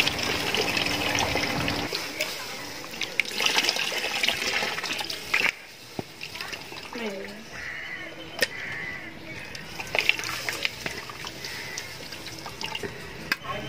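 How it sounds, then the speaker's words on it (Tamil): Tamarind water is poured into a pan of katla fish curry being cooked in Tamil style. A close, steady liquid pouring and splashing sound runs throughout, with faint background noise and no talking. "இப்போ புளி கரைசல் ஊற்றிக்கலாம்."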